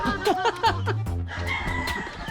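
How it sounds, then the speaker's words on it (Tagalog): A white rooster in Santander, Cebu crows nearby, loud and close, its call breaking into a drawn-out cock-a-doodle-doo with some faint background clucking. "Ang manok ni San Pedro."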